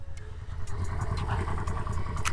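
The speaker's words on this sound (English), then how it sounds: "you can see the engine running perfect on both sides from the exhaust" Yamaha Vmax 1200 motorcycle engine idling on a cold day, a steady low throb with a pulsing rhythm from both exhausts, close and continuous.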